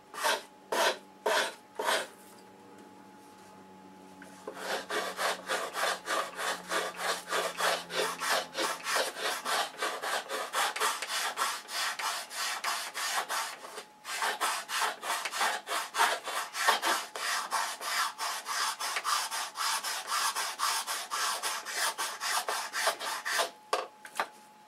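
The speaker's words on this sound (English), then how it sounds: "I'm sanding around the corner from top to bottom with a block." A sanding block rubs back and forth over a model aircraft fuselage nose, working around the corner from top to bottom. Close, steady rapid scraping strokes run almost continuously, after a few separate strokes at the start and a short pause midway.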